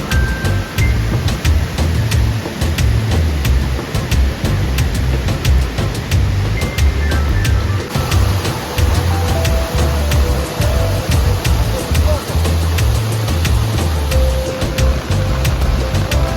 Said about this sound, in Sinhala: බෝවතැන්න ජලාශයෙන් වාන් දාන ජලය තමයි මේ යන්නේ. මේ අඹංගඟ